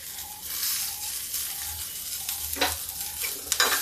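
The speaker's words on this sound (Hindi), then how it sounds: "प्याज को हम भूनते हैं।" Onion frying in a pan hisses steadily, with a low hum underneath and several sharp stirring scrapes toward the end, close and fairly quiet, with no one speaking.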